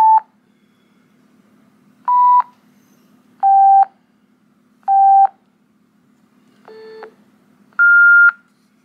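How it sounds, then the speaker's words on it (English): Six separate DTMF tones sound as a code is keyed in on the keypad of a Yaesu FTM-500DE radio, each a clean beep lasting about half a second, spaced a second or so apart over a faint low hum. "So we do that on the DTMF keypad."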